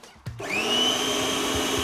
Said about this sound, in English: We have all the cashew nuts in the blender.